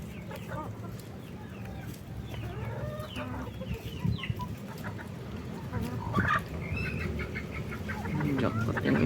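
Backyard chickens cluck and squawk repeatedly while pecking at leftover vegetables, near and fairly loud, with a person talking in between.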